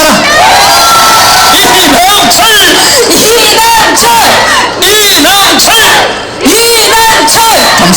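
A large crowd at a Korean provincial governor candidate's campaign rally cheers and shouts loudly, with many overlapping voices chanting and whooping over steady clapping for the full stretch.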